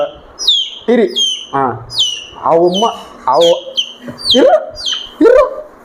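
Several chicks and a hen outside call back and forth in a village yard, short rising high peeps repeating over quieter clucking, close and fairly loud.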